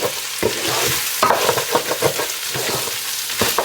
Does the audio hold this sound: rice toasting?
yes